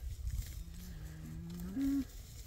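A bull on a farm gives a short, close, low moo that climbs in pitch and swells louder toward the end before cutting off, with no talking.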